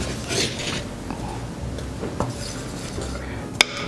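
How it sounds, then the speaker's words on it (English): Two tablespoons of butter melt in a pan for a shrimp rissole filling, heard as a soft low hiss under scattered clinks and knocks of cookware, with a couple of sharp metallic taps near the end. "Here we are melting the butter."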